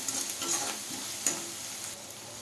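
Chopped onions for kanda poha frying and being stirred in a pan, with a steady soft sizzle and a few light scraping taps of the spoon, close and alone.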